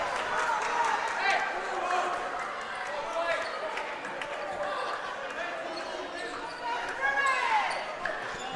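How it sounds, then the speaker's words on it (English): Crowd in the student section at a varsity boys high school basketball game between Calvary and Suburban, a busy murmur of voices with squeaking shoes and bouncing balls, heard under a commentator's steady talk. "As you can hear the crowd getting into it over there at the crazy section"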